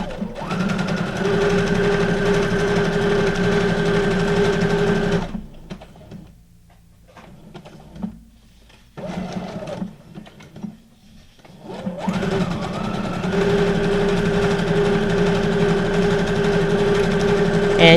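Sewing machine running decorative stitches on a junk journal page built from a game board, a steady close mechanical whir in two long runs with a quiet pause between, no talking.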